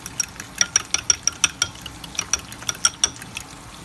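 Four eggs beaten in a bowl, a quick run of sharp, rhythmic clicking taps about five per second, close and fairly light, with no talking.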